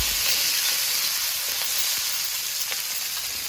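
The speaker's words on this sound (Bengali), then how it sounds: "পেঁয়াজ লঙ্কা কুচি দিয়ে দিয়েছি এবার একটু নেড়ে চেড়ে নেবো" Chopped onions and green chili frying in a pan for chicken chow mein, a constant close hiss and sizzle with a few faint scrapes of stirring.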